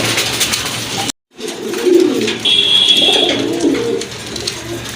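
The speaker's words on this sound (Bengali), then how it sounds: "এক জোড়া কাগজি কবুতর, এগুলো সম্পূর্ণ রানিং কবুতর" A pair of Kagzi pigeons cooing, soft low rolling coos close by in a couple of short phrases over steady background noise, with a brief dropout near the start.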